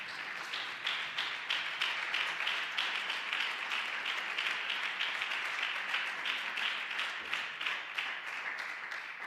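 A church congregation claps together in a sustained, rhythmic applause, the even beats repeating steadily and filling the room at a moderate distance.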